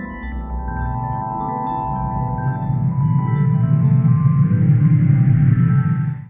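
Space sonification of the Bullet Cluster galaxy collision: a dense, rumbling low drone with sustained tones that slowly swells louder and ends abruptly.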